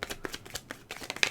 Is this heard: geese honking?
no